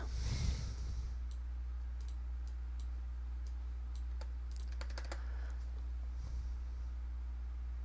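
Computer keyboard typing, a sparse run of light clicks and taps from nearby, quiet over a low steady hum, with a brief rustle at the start.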